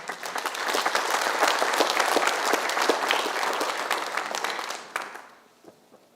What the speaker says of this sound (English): round of applause for our new members